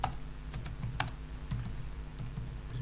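Fingers type a comment into code on a computer keyboard, with a string of light, irregular clicks and a few sharper key strikes over a steady low hum.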